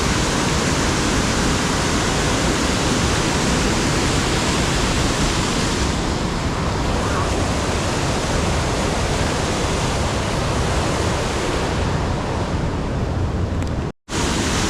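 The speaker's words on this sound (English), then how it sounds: "Look at how that water is just rushing." Daves Falls on the Pike River in Amberg, Wisconsin roars close by, a dense, unbroken rush of water with some wind buffeting, cutting out abruptly for a moment near the end.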